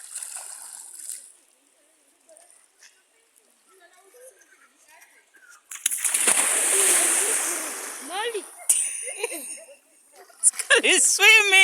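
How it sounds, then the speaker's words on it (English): A person swims across a river, giving loud churning splashes in the second half after a quieter stretch, while people laugh and chatter nearby. "He's swimming."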